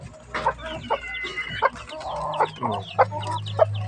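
Chickens being fed cluck repeatedly at close range, with short sharp calls every half second or so over a low background hum.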